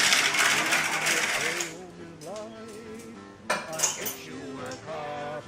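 A utensil beats fresh cream with caramelized condensed milk in a bowl, giving a dense, rapid clattering scrape for the first couple of seconds before it gives way to other sound.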